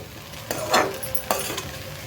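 Onion-potato poha is stirred in a pan with a few distinct scraping strokes over a soft background sizzle, close and moderately loud, with no talking.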